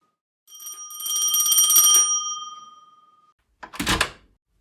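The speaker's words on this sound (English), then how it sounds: "rings the doorbell" A doorbell rings with a bright, sustained metallic chime that rises, holds and slowly fades, followed by a short knock-like clatter as a door or latch sounds.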